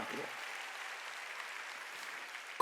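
A church congregation clapping during a sermon, a faint, steady wash of many hands applauding in a large room, with no voices.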